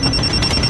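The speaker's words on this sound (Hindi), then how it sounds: "थोड़ी देर में मेरा फोन बजा।" A brief burst of an electronic ringtone, a high pulsing tone over a steady background hum, heard loud and close.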